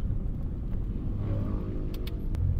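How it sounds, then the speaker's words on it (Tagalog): A Mitsubishi Eclipse engine misfiring at low RPM below 1000, a low uneven rumbling idle with a rough, stumbling pulse, steady and close, with a couple of faint clicks near the end. "Ayan yung palya niya, pag below 1000 RPM."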